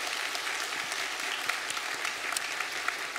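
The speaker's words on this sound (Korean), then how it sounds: "박수로 환영하겠습니다." Church congregation clapping during a Sunday worship service to welcome a new family: steady, even applause from many hands, fairly soft and slightly distant, with no voices over it.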